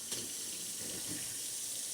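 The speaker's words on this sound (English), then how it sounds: "I'm like pointing the water directly at the USB-C port right here." Water runs in a steady stream and splashes onto a Redmi Note 15 Pro Plus phone's USB-C port close by, a continuous quiet hiss with faint bumps underneath.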